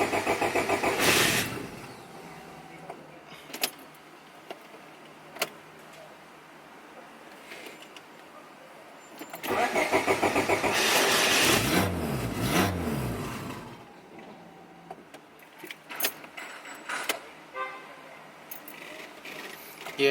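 Turbocharged Honda Civic with a fuel pump fault cranking and firing, two bursts of starter churn and engine catch separated by quieter idle and clicks, close by, with someone talking at intervals.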